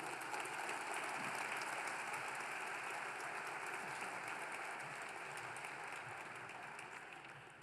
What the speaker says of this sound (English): So let's bring a big round of applause for Michelle and bring her up here to announce the award.